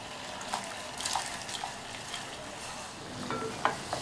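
Washed, roasted moong dal goes into a pot of boiling water for payasam, with soft splashes, bubbling and a few sharp clinks of a spoon or vessel against a quiet, simmering background.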